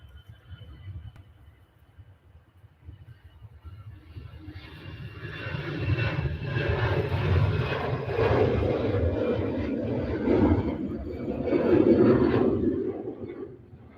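A jet airliner at Manchester Airport makes a distant, building roar that swells over several seconds and stays loud and rumbling, with no talk over it.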